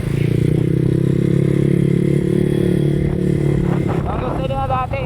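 A tuned motorcycle engine with freshly reset valves, accelerating as a loud, steady droning rumble close up, with a voice briefly heard near the end.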